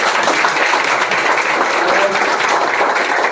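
Steady, dense applause from an audience of teachers at an RWA coaching event, a loud unbroken wash of many hands clapping together with no clear pauses.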